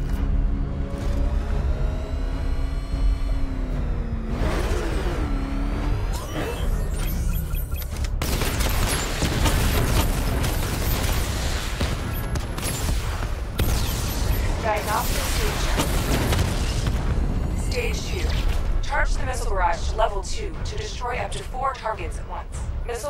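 Missile barrage explosions from Batman Arkham Knight, a continuous run of loud booms and rapid gunfire-like blasts with heavy low rumble throughout, mixed with game effects and occasional voice.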